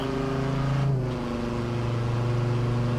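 A Hennessey VelociRaptor 6x6 Ford pickup truck engine hums steadily and shifts pitch partway through as it accelerates, a close, continuous drone with no voices.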